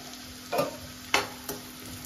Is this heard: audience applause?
no